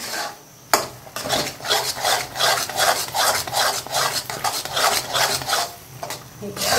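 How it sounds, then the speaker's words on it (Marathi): Spicy mutton masala with chilli powder is stirred and sautéed in a pan, a spoon scraping the pan in steady rhythmic strokes, close and fairly loud, with no one talking. "ताई परतवत आहे. तिखट टाकून तेल सुटेपर्यंत छान."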